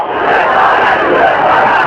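A large crowd at an Ahl-e-Hadith religious gathering for the Prophet's birthday celebration chants slogans in unison, a loud dense roar of many voices sustained without pause.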